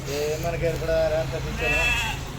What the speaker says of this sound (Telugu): రెండు మేకలు తీసుకుంటున్నాం